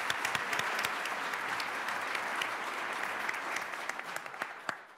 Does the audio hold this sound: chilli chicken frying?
no